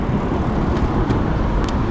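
Steady roadway traffic of cars and motorbikes rushes past continuously nearby, a dense broadband wash with brief louder passes of individual vehicles and no voices.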